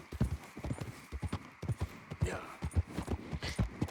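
Horse hooves clip-clop at a walk in Red Dead Redemption 2, a fairly close, steady rhythmic series of hoofbeats with a brief whinny partway through, faint and mostly alone.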